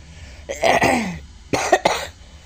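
A person with a cold and dengue fever coughs nearby in two harsh, close bursts, the second a quick double cough, with a short pause between them.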